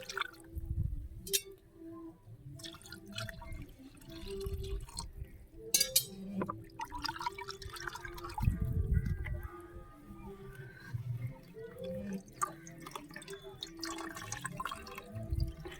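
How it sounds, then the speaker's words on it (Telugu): Sour buttermilk strains through a cotton cloth with a continuous soft trickle and scattered drips. Nearby there is low background noise and faint talk. "చూసారా, వాటర్ లాగా దిగుతుంది కదా."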